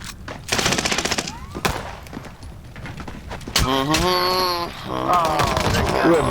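A video game firefight sounds out: rapid bursts of automatic gunfire and sharp single shots, loud and close, with excited voices talking over the action.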